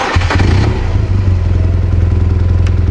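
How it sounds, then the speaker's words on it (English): A BMW R1200GS boxer engine fires and settles into a loud, steady, throbbing idle, close up, with a brief clattery start in the first moments. "To test the bike on a BMW, you have to start it."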